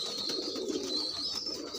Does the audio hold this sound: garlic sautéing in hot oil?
no